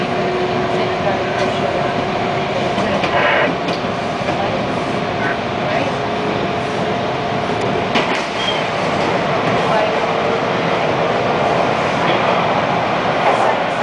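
Toronto TTC Line 2 subway train rolling into Dundas West station, a loud continuous rumble of wheels and motors with faint clicks and squeals throughout.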